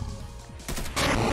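Gunfire sounds in a video game with awkward controls and camera angles: a short burst of loud, rapid cracks and booms that sets in partway through and grows heavier toward the end, with no talk over it.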